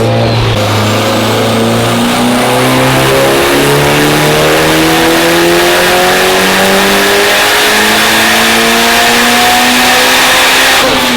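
A Mitsubishi Evo 9 engine on a dyno, pulled hard through the revs on pump gas. It makes a loud, continuous rising drone that sweeps steadily upward in pitch over about ten seconds.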